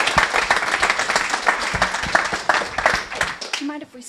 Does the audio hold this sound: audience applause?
yes